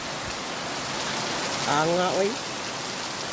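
Heavy rain pours down in a steady, dense wash close by, and a man briefly exclaims over it partway through.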